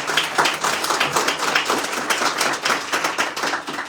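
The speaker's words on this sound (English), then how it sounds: "Let's give her a round of applause" A round of applause from the audience at a mayor's grant awards announcement, steady close clapping with many overlapping hands sustained throughout.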